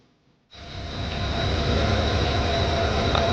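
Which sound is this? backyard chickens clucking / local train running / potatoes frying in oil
local train running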